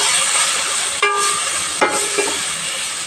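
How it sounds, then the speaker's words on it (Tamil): Chili, coriander and turmeric powders fry in hot oil with softened tomatoes for a fish curry, making a loud, dense, steady sizzle up close, interrupted by a couple of brief stirring knocks. "இப்போ நான் மிளகாத்தூள், மல்லித்தூள், மஞ்சத்தூள் மூணையும் போடுறேன்."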